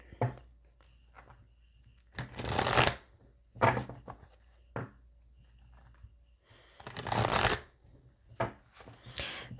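Oracle cards being shuffled by hand in several bursts of crisp riffling and flapping, separated by quiet pauses, close and fairly loud, with no talking.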